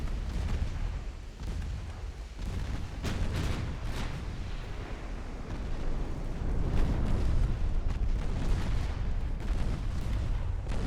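Warship main guns firing armor-piercing shells in a naval battle, heavy booming blasts rolling one after another with rumbling echoes over several seconds, loud and fairly close.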